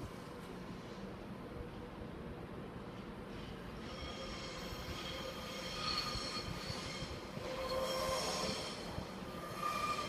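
A Northern passenger train runs into platform 8 at Doncaster station with sustained, moderately faint wheel squeal over low rumble, the squealing growing a little louder toward the end.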